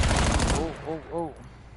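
Gunfire in a Call of Duty Black Ops 7 search-and-destroy match, a dense rapid burst for about half a second, followed by short electronic tonal chirps.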